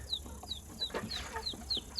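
Backyard chickens, a mix of hens and young roosters, cluck softly and fairly close in a garden coop, with repeated short high calls and low murmuring clucks over a quiet outdoor background.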